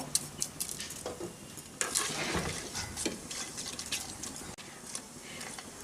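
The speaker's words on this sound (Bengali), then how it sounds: "এর মধ্যে আমি ফোড়নে দিয়ে দিচ্ছি তিনটে এলাচ তিনটে লবঙ্গ এক টুকরো দারচিনি একটা স্টার অ্যানিচ ওয়ান ফোর চা চামচ মতো গোটা জিরে রয়েছে আর দুটো তেজপাতা" Whole cardamom, cloves, cinnamon, star anise, cumin seeds and bay leaves fry in hot oil, a soft crackling sizzle with irregular pops and stirring scrapes, fairly quiet and close.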